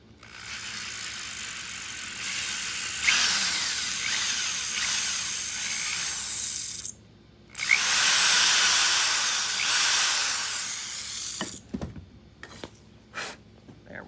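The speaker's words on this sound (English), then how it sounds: "So I think I'm at a 1/4 inch drill bit now." A drill fitted with a 1/4 inch bit runs loud and close in two long sustained bursts separated by a short pause, followed by a few clicks and handling knocks.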